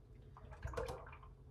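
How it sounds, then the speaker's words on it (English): A whole gallon of Walmart 1% chocolate milk glugs and splashes steadily into a crockpot, a soft continuous pour heard close but quietly, with no talking. "And we'll pour the whole gallon in here."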